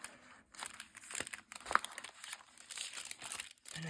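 Paper envelopes being rummaged through inside a travel pouch, giving close, quiet crinkling and rustling with a few sharper crackles in uneven bursts.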